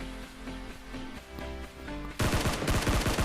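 Rapid bursts of gunfire in the Free Fire video game, a loud, dense run of shots that starts abruptly after a stretch of quieter game sound and music.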